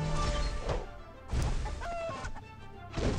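Chicken clucking and squawking in the game What The Hen, a few short bursts mixed with crashing, thwacking hits over a busy game backdrop.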